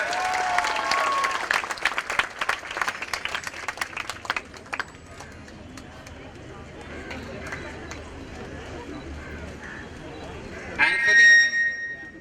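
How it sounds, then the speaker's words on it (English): An audience claps for a young girl's portrait at a hospital's golden jubilee celebration; dense applause for about five seconds fades into quieter room murmur, then a brief louder burst near the end. "let's give her a big round of applause as well"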